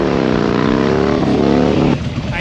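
Harley-Davidson motorcycle engine roaring loud and steady while the bike is lifted into a wheelie, with a dense harmonic drone that drops off abruptly near the end as the throttle is released.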